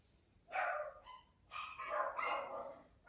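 A dog barking at a distance during a quiet yoga class, a short sequence of about three or four faint, yelping barks with brief pauses, alone without talk.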